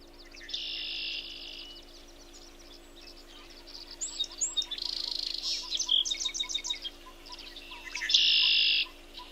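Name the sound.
red-winged blackbird call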